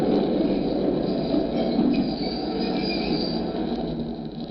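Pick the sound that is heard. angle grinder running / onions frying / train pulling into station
train pulling into station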